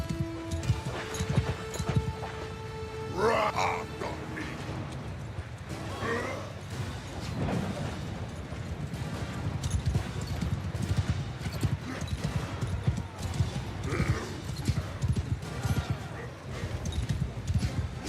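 Horses' hooves clip-clop steadily in a Warhammer mod of a medieval combat video game, a dense rhythmic clatter with an occasional whinny and game voices speaking over it.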